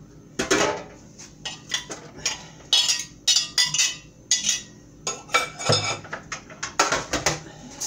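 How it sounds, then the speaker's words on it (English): A big metal lid set back onto a cooking pot holding corned beef brisket, heard as a string of sharp clanks and clinks of metal on metal, close and fairly loud, with no talking. "put my big lid back on"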